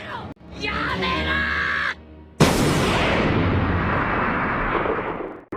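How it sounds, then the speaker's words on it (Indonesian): A loud, sudden cannon blast from One Piece episode 5 bursts in after a stretch of cartoonish voices, then rumbles and roars on for several seconds before cutting off. "Disitulah Zoro mengangkat meriam dan menyuruh Nami menyalakan meriam Dama ke arah Buggy dan anak buahnya."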